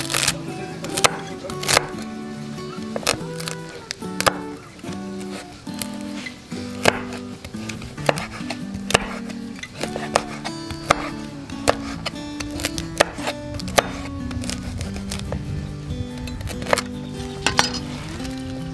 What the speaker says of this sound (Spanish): si cortamos tantita cebolla